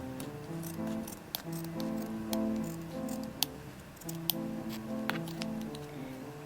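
Scissors snip a small piece from a cotton pad during nail painting, a few faint crisp clicks close by over soft background music.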